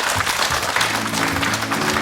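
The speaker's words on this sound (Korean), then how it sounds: "박수를 청해 듣겠습니다" Studio audience on a Korean morning talk show applauding a mother and daughters about to sing, a dense, steady wash of clapping filling the whole short stretch.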